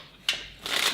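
Playing cards riffle-shuffled by hand during a magic segment: a sharp brief burst followed by a longer, denser rustling flutter, close up with no voices.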